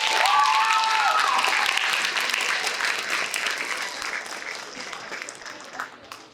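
Audience applause for participants at the Frederick Douglass oratorical contest, full and loud at first, then slowly thinning out as the clapping winds down, with a brief tonal sound early on.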